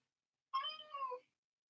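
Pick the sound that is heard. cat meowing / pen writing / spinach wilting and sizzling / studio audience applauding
cat meowing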